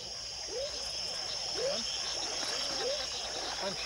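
Night rainforest frogs call in a chorus of short rising chirps, repeated about every second over a constant high insect drone, moderately close.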